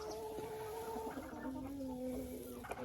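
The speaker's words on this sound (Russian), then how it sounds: "Видите, какие у меня голодные куры?" Hungry chickens cluck softly, giving low drawn-out calls close by against quiet farmyard background.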